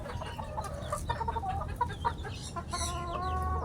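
A young mayahin stag rooster clucks repeatedly in a farmyard, giving a series of close, fairly loud, short calls in an irregular rhythm over low background noise.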